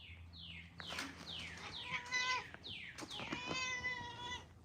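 A pet cat meowing insistently after being let outside, a run of about eight descending meows and drawn-out cries, one after another, fairly faint and alone with no talking.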